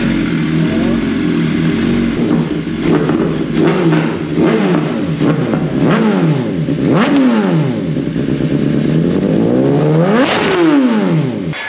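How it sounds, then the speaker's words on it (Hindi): A motorcycle engine revs repeatedly, loud and close, each throttle blip rising and falling over a steady idling rumble. "इतने दिनों बाद ना बाइक की आवाज़ सुन के मज़ा आ गया"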